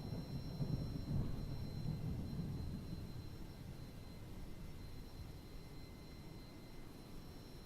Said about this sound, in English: even the sound of the thunder seems to make sense, like the delay